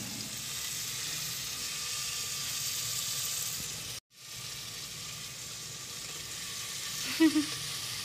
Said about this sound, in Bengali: এই দেখো এখন এই বাঁধাকপিগুলো দিয়ে দিই